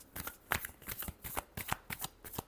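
Tarot cards are riffled and shuffled close by in quick, bursty flutters, about eight brisk rustling pulses in a row with no talk.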